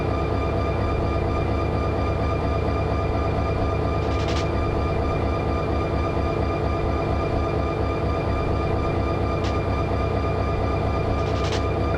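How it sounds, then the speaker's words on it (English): A diesel train locomotive in the Run 8 train simulator game, on Bakersfield local operations, rumbles loudly and continuously with a steady engine drone and brief higher clanks, no talking. "Holy cow, this train is loud."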